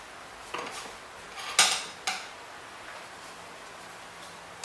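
Metal tire spoons clink and tap against a motorcycle front wheel as the tire bead is levered off, a few sharp close clanks over quiet background.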